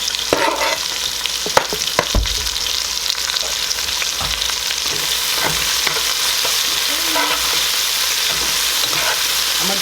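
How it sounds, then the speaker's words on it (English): Green onions and garlic sauté in a very hot pot for rasta pasta, a steady loud sizzle with occasional stirring clinks, no talking. "And I'm putting in the garlic and let that saute."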